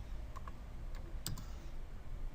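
A few light, quick clicks from a computer keyboard as a number is typed in, spaced irregularly over a steady hum of background noise, with no one talking.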